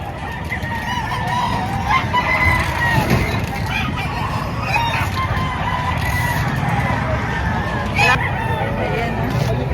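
Roosters crow and chickens cluck at a live poultry market in Padre Garcia, Batangas, with people talking steadily among the busy, continuous background noise.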